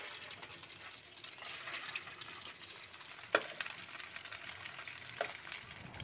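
Semolina and potato snacks frying in a pan of oil give a soft, steady sizzle, faint and close, with a couple of brief clinks partway through and no talking.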